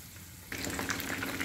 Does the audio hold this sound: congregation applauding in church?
no